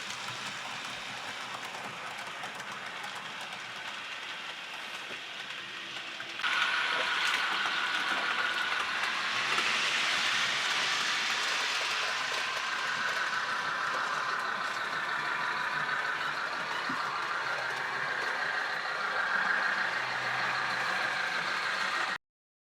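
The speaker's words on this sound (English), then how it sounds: "the Alco demonstrator is currently running the Locksound demo file / testing file" A Rapido Alco demonstrator model locomotive running a LokSound demo sound file plays a steady mechanical hum that steps up in loudness partway through and holds a constant drone, fairly faint, with no talk.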